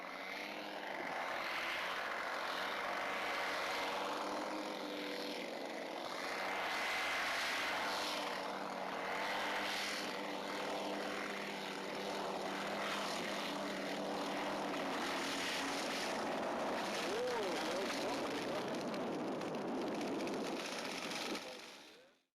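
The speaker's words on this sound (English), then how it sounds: "Finally, the landing, which due to the strong wind, gave the B-17 a very slow ground speed." Radio-controlled B-17 Fortress scale model bomber with multiple propeller engines landing slowly into a strong wind, a steady droning engine buzz held close and loud throughout before cutting off abruptly at the end.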